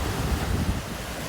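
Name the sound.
sea waves at the seaside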